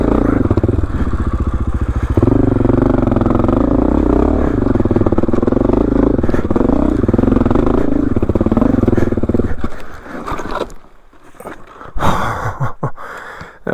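Motorcycle engine held in first gear while crawling over a ruthless granite rock garden on a rugged ridge trail, a loud, steady, close drone that breaks into uneven revs and clatter near the end.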